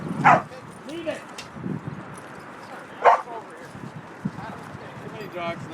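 Several dogs at a dog park bark in short, sharp bursts, some near and loud, others softer, while people talk nearby.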